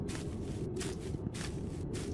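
Footsteps walk through a forest at night in a visual novel video game, soft evenly spaced steps repeating about every half second over a low, steady rumble.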